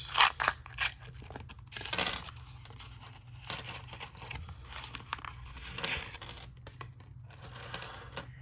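A paper roll of circulated wheat pennies is torn open, giving crisp tearing and crinkling bursts, with coins clinking and rattling against each other through the middle and end, close and fairly quiet.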